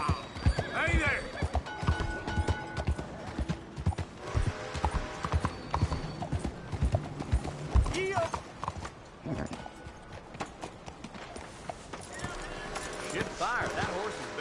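A horse whinnies loudly over rhythmic clip-clopping hooves in the video game Red Dead Redemption 2, set in the city of Saint-Denis, with people talking throughout and other noises scattered around.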